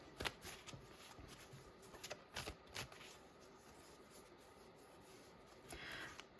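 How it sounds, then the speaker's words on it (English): Tarot cards shuffled by hand in a quiet room, giving soft papery riffles and flutters with a few sharper slaps, faint and close, no voice. "let's shuffle these"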